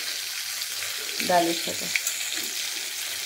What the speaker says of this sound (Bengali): কড়াতে অলরেডি বসিয়ে দিয়েছে মাছ ভাজা করতে। একটু কড়া করে ভাজবো। একটু বেসন দিয়েছি।